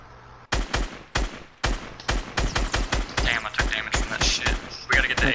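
Rapid bursts of gunfire in Fortnite crack loud and close, a steady rhythm of sharp repeated shots over about five seconds with faint background game sounds.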